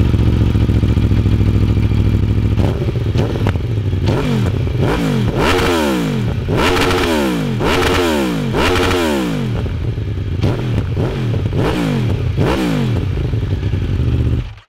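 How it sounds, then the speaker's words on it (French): A 2019 Aprilia Tuono V4 Factory 1100 motorcycle revs hard and loud nearby, shifting gears in repeated rising sweeps, with crackles and pops from the exhaust between pulls. "On a des très jolis claquements à l'échappement avec des jolis pétaradements."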